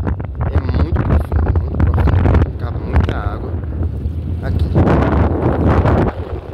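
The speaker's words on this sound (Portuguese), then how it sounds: "é muito vento, uma ventania absurda aqui" Strong wind at a dam on the São Francisco River transposition in Paraíba's upper sertão, roaring steadily and loudly into the microphone with gusty buffeting throughout.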